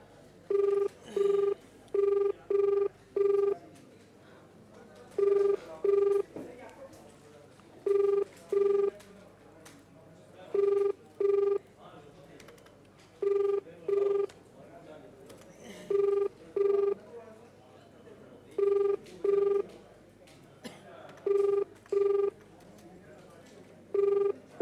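Repeated telephone ringback tones follow a dialed call, sounding in evenly spaced double pulses throughout, steady and clear, with faint background murmur between the rings as the number goes unanswered.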